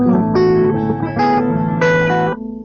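Several Empress ZOIA effects pedal patches play together as layered, distorted electronic tones with shifting pitched bursts and a steady low drone, loud and continuous before cutting off near the end.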